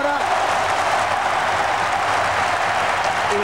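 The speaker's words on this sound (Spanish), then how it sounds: "La gente lo aplaude, ¿eh?" A stadium crowd applauds a football player at a 1998 World Cup qualifier between Chile and Uruguay, a steady, distant wash of clapping that holds evenly throughout.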